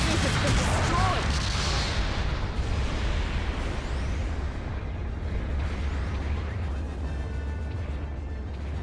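A mobile suit is destroyed in Mobile Suit Gundam Battle Operation 2: a loud, booming blast with a long, rumbling, crackling decay that fades slowly under continuing game sounds.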